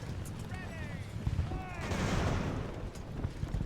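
Musket gunfire in the naval strategy game Ultimate Admiral: Age of Sail, as Marines fire uphill: dense crackling volleys and scattered shots laced with thin whistling tones, rolling on continuously.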